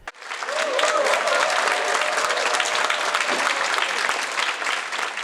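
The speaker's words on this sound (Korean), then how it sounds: "힘찬 박수로 시작하는 공연." Strong, sustained applause from a concert audience greets performers as a show begins, a dense steady wash of many hands lasting throughout.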